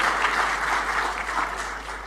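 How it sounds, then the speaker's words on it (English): An audience at a forum breaks into steady, dense applause that carries on throughout and fades slightly toward the end, with no voice above it. "Mrs. Embun Sari, please give a big round of applause to our Dirjen here."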